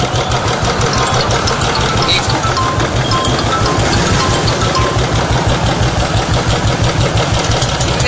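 Motorbike engine idling steadily just after being started, a loud, close, even low chugging that runs on unbroken without talk.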